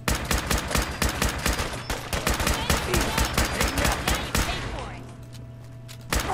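Rapid, loud bursts of gunfire from the game Fallout 4 as raiders are shot, a dense continuous volley that thins out toward the end, with a brief spoken exclamation.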